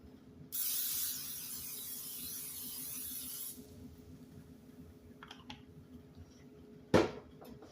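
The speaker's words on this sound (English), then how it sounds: "I'm going to go ahead and spray the basket of my air fryer." A steady hissing spray of cooking oil into an air fryer basket lasts about three seconds, followed by quiet rustling and a sharp metallic clack near the end.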